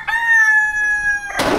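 A rooster crows in one long, loud, sustained call lasting over a second, ending abruptly in a burst of noise, with no talking over it.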